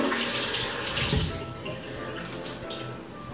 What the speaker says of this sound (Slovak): Najprv opláchnem tvár normálne čistou vodou.